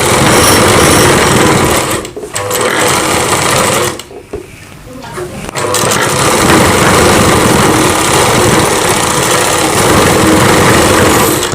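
A sewing machine runs steadily, stitching the top seam on fabric for a Rajputi poshak kanchali blouse. The loud whirring continues almost without a break, apart from one short pause partway through.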